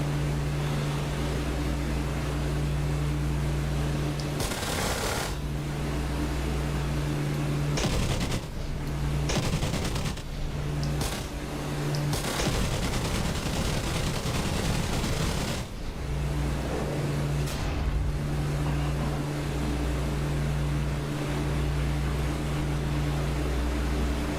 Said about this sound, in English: Their Schnellboot in front shooting at me as well